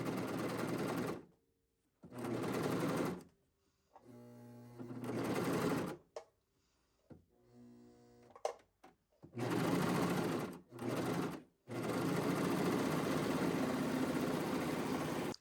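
Serger sewing machine stitching a zipper, with several loud, close runs of rapid mechanical whirring separated by short pauses and softer stop-start bursts of stitching.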